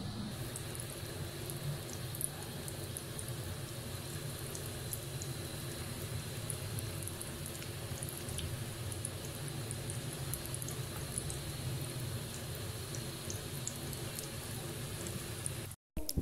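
Pani wale pakoras made from a batter with salt, red chilli and baking soda fry in hot oil, giving a steady close crackling sizzle that runs evenly for about sixteen seconds before cutting off.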